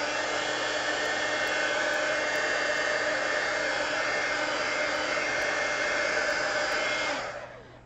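A hair dryer blows steadily on fresh paint of a mixed-media poster, a loud, even broadband whoosh running unbroken for about seven seconds and then cutting off at the end, with no voices.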